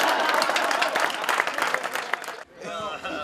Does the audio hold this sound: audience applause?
yes